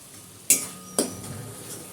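Spoon stirring ginger, garlic and chili paste with Kashmiri chili powder in a metal pan, two sharp clinks half a second apart followed by soft scraping and faint sizzle.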